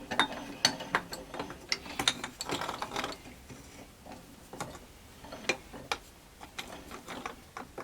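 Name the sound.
part from a Suzuki quad runner being put in a vise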